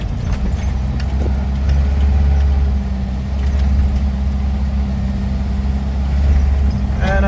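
A Jeep YJ on Bilstein 5100 shocks rolls over bumps at low speed, with a steady, loud engine and road rumble and a jangling rattle of loose parts over the bumps.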